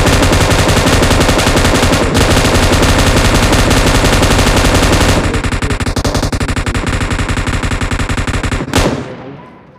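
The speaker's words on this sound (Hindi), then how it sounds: "थोड़ा और कहीं भी फायरिंग किया जा रहा है।" Sustained automatic fire from an M7 rifle fitted with a 3x scope rattles nonstop in the battle royale game BGMI, loud and dense, briefly thinning after midway before a final burst cuts off into silence.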